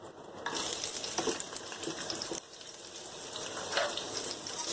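Sliced onions sizzle and crackle steadily in hot oil for mutton biryani, a constant close frying hiss with occasional stirring scrapes.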